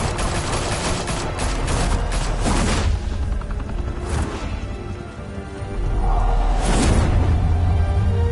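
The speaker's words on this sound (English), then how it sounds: "Open fire!" Sustained game gunfire in Batman Telltale, a dense fusillade of rapid shots and bursts with booms, loud and continuous for the whole stretch, with no talk over it.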